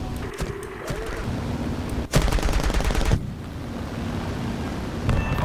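Aircraft machine guns firing in the War Thunder video game, a loud continuous rattling burst over a dense roaring engine and wind backdrop, with a sharp louder stretch in the middle.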